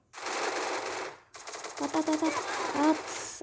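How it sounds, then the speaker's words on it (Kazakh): Rapid bursts of automatic gunfire from the mobile battle royale game Free Fire, loud and close, with a brief gap before a second dense volley over faint voices. "Атыс."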